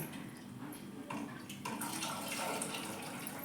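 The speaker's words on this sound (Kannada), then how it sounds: "ಎಷ್ಟು ಬೇಕಷ್ಟು ನಮ್ಗೆ ನೀರು ಹಾಕ್ಕೋಬೇಕು ನೋಡ್ರಿ" Water poured into a cooking pot of tamarind sambar, a steady close splashing flow that grows slightly fuller toward the end, heard alone without talk.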